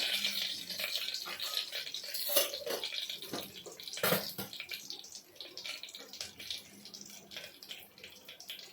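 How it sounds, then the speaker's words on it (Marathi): Mustard seeds and cumin crackle and pop in hot oil with curry leaves, giving a close, irregular run of sharp spatters over a soft hissing sizzle. "तेल तापलं आहे राई आणि जिरा पण टाकून घेऊया"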